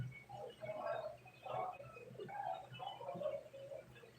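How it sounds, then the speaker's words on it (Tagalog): A bird coos in soft, low repeated calls, several rounded hoots in a steady rhythm, fairly faint against quiet background. "Ibon."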